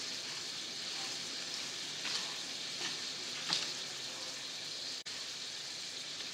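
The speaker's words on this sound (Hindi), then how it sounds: "तो ये देखिए टमाटर फ्राई हो रहे हैं हमारे अच्छी तरह से।" Tomatoes and onions frying in a pan for a mutton karahi, a soft continuous sizzle with faint crackles and a brief stir-like swish, quiet and without talk.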